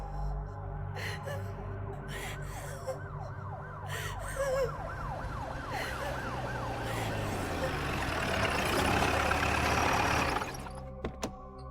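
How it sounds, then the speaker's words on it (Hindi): A police jeep's wailing siren rises and falls in repeated sweeps over a rumbling engine, growing louder and busier before cutting off abruptly. "तभी उसे पुलिस की जीप की सायरन सुनाई दी।"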